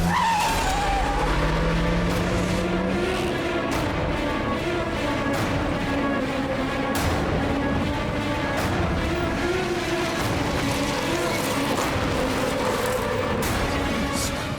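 A car peels away during a tense crime-drama chase, its tires skidding and squealing in a loud, unbroken stretch of engine roar and screeching rubber that runs for about fifteen seconds.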